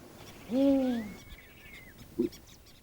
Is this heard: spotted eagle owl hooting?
yes